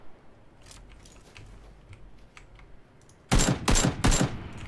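Gunfire in the video game PlayerUnknown's Battlegrounds: after quiet background, three loud sharp shots ring out in quick succession near the end.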